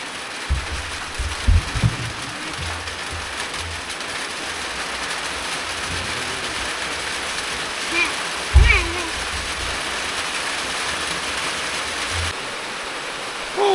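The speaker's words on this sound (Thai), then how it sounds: "ฝนตกแดดออก" Rain falling while the sun shines, a steady, even hiss across the whole stretch with a few brief thumps and knocks nearby.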